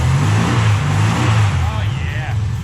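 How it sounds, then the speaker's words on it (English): A 1971 VW Super Beetle's air-cooled engine rumbles and revs, a loud close low drone that climbs and then eases off as the car pulls away, with a faint high whine near the end. "Listen to that powerful engine."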